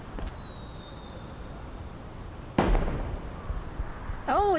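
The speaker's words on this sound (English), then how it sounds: "Look for the firework in the sky." A firework bursts in the sky in the co-op walking game Big Walk, one sharp crack followed by a crackling rumble, quiet and somewhat distant over a faint background hum.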